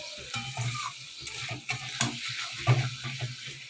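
Spice masala for a katla fish curry with potato and pointed gourd sizzles and fries in oil over a low flame while a spoon stirs it, giving a steady crackle broken by scraping strokes at close range.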